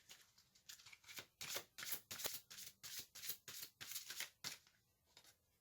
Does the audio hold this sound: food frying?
no